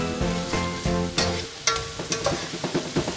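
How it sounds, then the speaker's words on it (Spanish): Chopped onion and bell pepper frying in a pan, with steady sizzling broken by stirring and scraping sounds, close up and with no talk. "Y lo dejamos que se vaya friendo también, como unos 3 o 4 minutitos."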